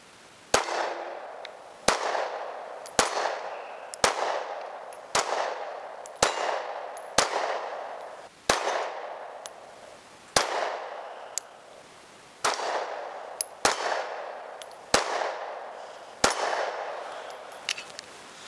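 Sig Sauer P938 Legion pistol firing, about fifteen sharp loud shots spaced roughly a second apart, each cracking and echoing briefly at an outdoor range.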